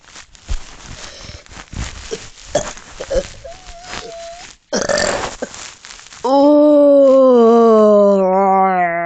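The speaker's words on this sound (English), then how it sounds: "it's really hard to do a burp" Several short, throaty burps from a person, with a longer, drawn-out belch, then a sustained tonal sound that holds near the end.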